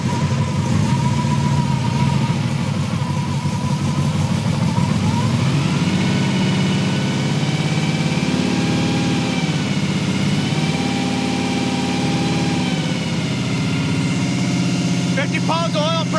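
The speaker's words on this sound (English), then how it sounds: "We have a cam break-in that we need to do with our new camshaft here, so we gotta just let her scream for about 20 minutes or so" A Chevelle engine with a freshly installed camshaft runs at high revs during cam break-in, a loud, steady drone with rising and falling harmonics that continues throughout, ending with a short burst of higher tones.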